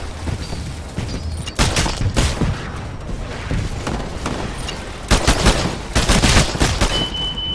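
Smart pistol shots in the sci-fi shooter Titanfall ring out in loud, sharp bursts amid a chaotic battle, with several heavy volleys and booms spread across the stretch.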